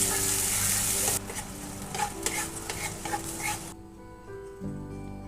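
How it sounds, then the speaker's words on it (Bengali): Water lily stems and small fish fry in a pan while being stirred, a loud close sizzle that drops to softer scraping and stirring clatter, with a dog whimpering faintly in the background. "ভালো করে নেড়ে চেড়ে কিছুক্ষণ সময়ের জন্য ভেজে নেব"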